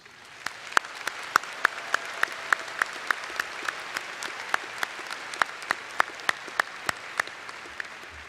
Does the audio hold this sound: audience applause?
yes